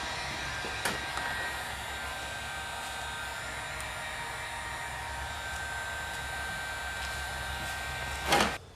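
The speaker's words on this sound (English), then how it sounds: "We'll get a heat gun." A heat gun blows hot air in a steady, even whoosh during tractor restoration work, running continuously at moderate level with a brief louder burst near the end.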